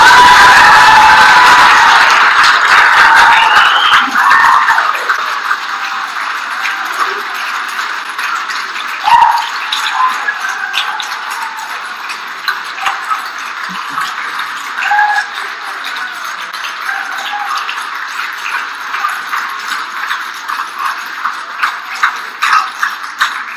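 A council chamber audience claps, loud and dense at first, then thins to scattered, uneven claps that trail on for a long while.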